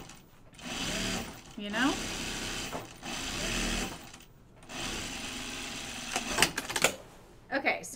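A sewing machine stitches a side seam on shorts sewn from the Free Range Slacks pattern by Sew House 7, running in several steady whirring bursts separated by brief stops, close up, while someone talks over it.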